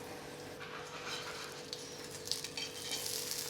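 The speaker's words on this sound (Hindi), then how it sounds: "घी डाल के मैं इसे थोड़ा सा क्रिस्प होने दूँगी और इसके ऊपर भी थोड़ा घी" A taco crisps in ghee in a pan, giving a soft, steady sizzle with a few faint scrapes and clicks, quiet and close, with no voices.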